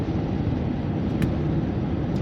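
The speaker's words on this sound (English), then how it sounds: "It looks like it was a built-on rig with a garbage truck thing on the back." Garbage truck built on a rig front passing on route 120 in rural Pennsylvania in autumn, a loud steady low engine roar and road rumble close by, continuous with no speech.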